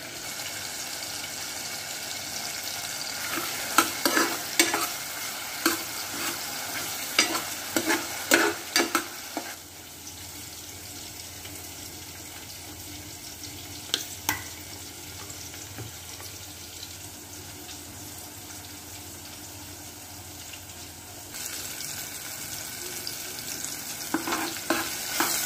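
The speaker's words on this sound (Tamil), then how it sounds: "தக்காளி, பச்சை மிளகாய், அச்சீரகம் எல்லாம் போட்டு வதக்கிடும்." Tomato, green chili and cumin sautéing in a pan, a continuous close sizzle with bursts of rapid spoon scraping and stirring clatter, a quieter stretch in the middle, no speech.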